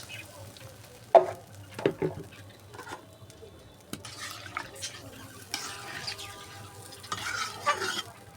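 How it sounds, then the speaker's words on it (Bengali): Broth goes into a frying curry in a pot and is stirred. A sharp splash opens onto scraping, clattering stirring strokes and light sizzling, all close by with intermittent bursts and no voices. "এখন আমি ঝোল দিয়ে দেবো"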